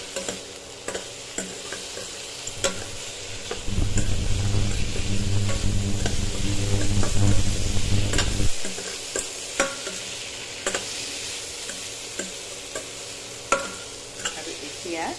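A pan of fish curry masala is stirred after cumin powder goes in, a steady scraping and sizzling swell for several seconds before it drops back to quiet kitchen ticks and clinks.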